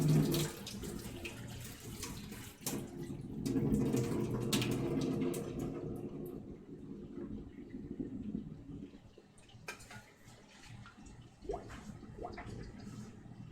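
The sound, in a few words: hot water poured off cooked parsnips into sink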